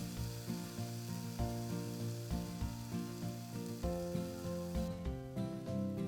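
Seasoned steak on a hot grill gives a steady sizzle beneath a prominent tonal musical backdrop, with no talking.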